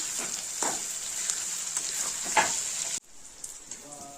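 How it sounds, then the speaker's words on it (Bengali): Onion and chillies fry in a pan until reddish-brown for a chicken curry, making a bright, continuous sizzle with soft stirring scrapes; the sizzle drops away abruptly near the end, leaving only faint kitchen noise. "পেঁয়াজটা লাল লাল করে ভেজে নিতে হবে"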